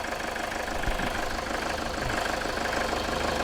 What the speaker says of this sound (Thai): จากที่ฟังดูนะครับ มัน ออเดินค่อนข้างเรียบอยู่นะครับสำหรับตัวเครื่องยนต์นะครับ